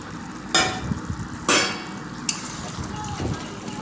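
Fried lentil cakes are dropped into simmering gravy for Bengali dhokar dalna, giving two loud sizzling bursts and a softer third one over a low bubbling background.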